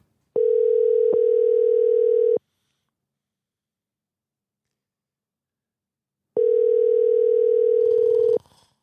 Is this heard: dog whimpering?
no